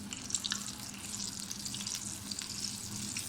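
Pakoras fry in hot oil in a home kitchen while kari simmers nearby, a steady dense sizzle with small crackles and pops running the whole time, close and fairly loud, with no voices.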